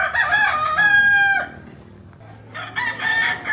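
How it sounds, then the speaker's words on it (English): Roosters and chickens kept for cockfighting at an Indonesian village site crow and cluck close by, one drawn-out crow followed by a pause and then more crowing, with no talk over them. "These are for chicken? Yeah, all chicken."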